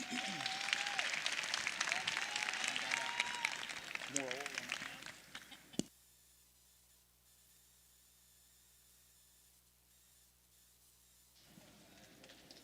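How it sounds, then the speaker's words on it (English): Crowd applause at a high school FFA steer show, broad and steady for about five seconds before cutting off abruptly, leaving a quiet hum with faint background murmur. "Let's give them all a big round of applause."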